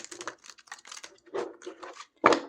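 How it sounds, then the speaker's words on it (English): A Good Fortune Tarot deck is shuffled by hand, a quick run of soft riffling and card slaps ending in a sharper tap, close and fairly loud with no one speaking. "I'm going to pull some tarot cards."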